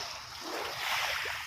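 Waves churned up by a passing Supercat ferry wash along the shore, a soft, hissing surge of water that swells and rolls for a moment, fairly faint and without talk.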